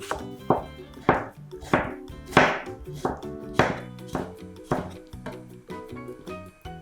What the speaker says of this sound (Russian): нарезаем полукольцами 1 огурец